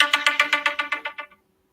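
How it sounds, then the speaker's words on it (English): Telephone ringtone sounds as a fast, evenly pulsed electronic trill of about ten bright beeps, fairly loud and close, stopping abruptly into silence. "The phone is going mad this morning."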